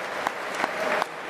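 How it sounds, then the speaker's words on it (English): Brief burst of applause from a conference audience welcoming a first-time speaker, moderately loud and steady with a few sharper individual claps standing out. "so let's give him a round of applause."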